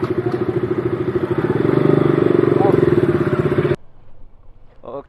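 A BMW S1000RR motorcycle engine rumbles close by with a pulsing, throbbing idle that swells in revs before cutting off abruptly, followed by quiet background.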